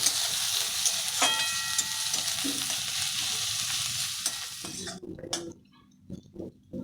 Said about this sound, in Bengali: ভালো করে ভেজে নিচ্ছি পেঁয়াজগুলো